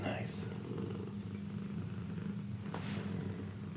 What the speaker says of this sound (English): Can you hear these purrs?